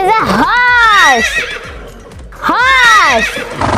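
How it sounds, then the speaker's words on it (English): A horse neighs twice, loud and close, each a long quavering whinny with a pause between them, and faint hoof clip-clops underneath. "This is a horse!"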